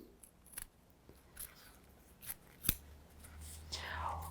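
Scissors cutting directly into chita fabric during embroidery work: a series of faint, crisp snips at irregular intervals, one sharper cut standing out, with soft whispering or speech nearby at low level.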